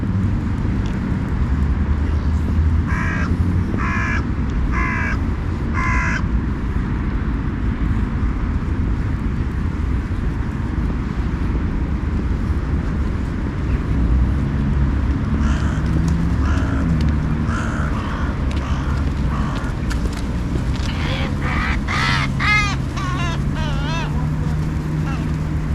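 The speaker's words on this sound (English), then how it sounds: "and feeds the birds, feeds the crows." Crows cawing outdoors beside a cycle track as birds gather to be fed, short bursts of harsh calls repeating in groups over steady background noise of wind and distant traffic.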